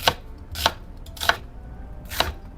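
A knife chops onion and garlic on a board nearby, four crisp, distinct strokes in an uneven rhythm with quiet pauses between them.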